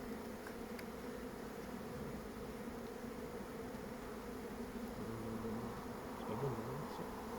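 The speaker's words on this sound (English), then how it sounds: "Can you see this bee here with the green pollen on her legs?" A dense swarm of honeybees hums continuously at a beehive in Scotland, a steady, close, even buzz with no talking.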